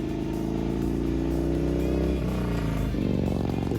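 A Harley-Davidson Sportster motorcycle cruises along the highway with a steady, loud engine drone and deep rumble. The pitch shifts slightly partway through as the rider holds speed, and no voice is heard.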